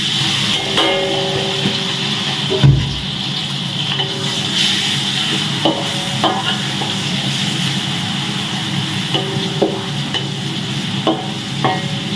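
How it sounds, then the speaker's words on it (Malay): Steady oil sizzle fills the clip as small anchovies fry, with occasional clinks and scrapes of a utensil against the pan. "Kita goreng bili dulu"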